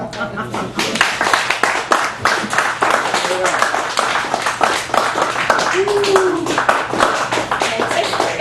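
Audience applause at a poetry open mic in a cafe gallery, dense sustained clapping filling the room throughout, with voices and whoops mixed in.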